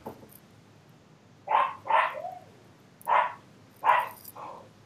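A dog barks about four times in short, sharp, moderately distant yaps, spaced irregularly against a quiet room.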